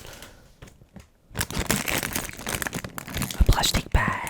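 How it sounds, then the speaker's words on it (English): A plastic bag is pulled out and crinkled close to the mic in an ASMR-style setting, with a quiet start followed by sustained crackling and crumpling and a few sharper rustles near the end. "a plastic bag"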